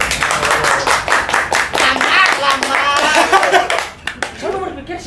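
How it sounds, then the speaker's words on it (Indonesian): An audience at a comedy show claps along in quick rhythmic bursts, with some laughter and voices talking over the clapping, which trails off near the end. "Tepuk tangan ya."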